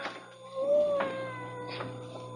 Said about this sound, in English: I hear a cat. He must be right in this room, but I don't see him.